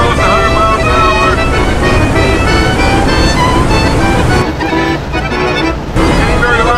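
An old Tatra car, 45 years old, races downhill at about 160 km/h, its engine roaring loud and steady with heavy wind and road rush throughout, briefly dipping near the end before surging again.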